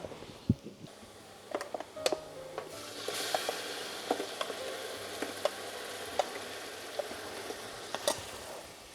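Ginger and garlic sizzle in hot oil for a prawn biryani, a steady frying hiss broken by sharp clinks and scrapes of a spoon stirring against the pan.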